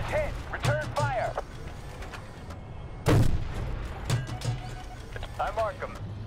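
Battlefield video game combat: sharp gunshots and a heavy blast near the middle ring out over shouted radio chatter and voices, with further impacts and crackling fire around them.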